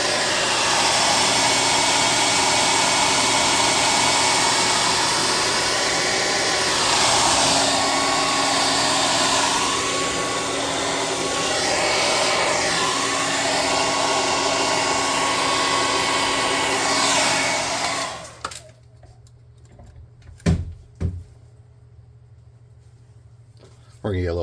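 Hair dryer blowing steadily to dry a freshly made tabletop miniature model, a loud continuous whir lasting most of the clip before switching off, followed by a few brief knocks and handling sounds.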